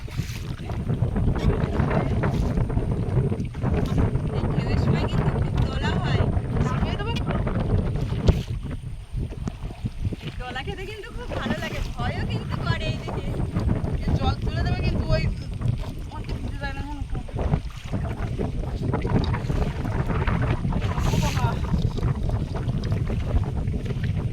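Waves rock a fishing boat on the Garal river in the Sundarbans, with continuous wind-buffeted splashing and rumbling throughout and intermittent voices.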